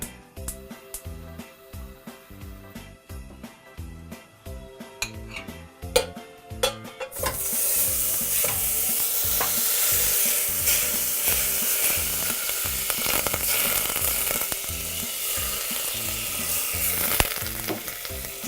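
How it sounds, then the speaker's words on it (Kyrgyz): Butter, sugar and honey melt in a pot for a homemade honey cake, first with steady rhythmic stirring scrapes, then a loud, continuous sizzle and bubbling under ongoing stirring. "Жууган майдын үстүнө мондай кумшекерди кошуп, анан 2 чоң кашык балды кошуп, анан бир аз эритип алабыз."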